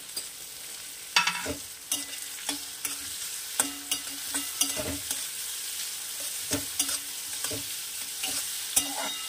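Brinjal sizzles steadily in a pan while a utensil stirs and scrapes at irregular intervals, close and clear with no talking.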